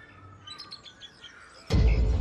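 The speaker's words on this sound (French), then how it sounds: "Un spectacle phare qui réussit le prodige de faire voler ensemble près de 180 rapaces de 75 espèces différentes." Birds of prey call at the Puy du Fou bird show, giving thin, faint chirps and calls in open air, then a sudden loud burst of broadband noise cuts in near the end.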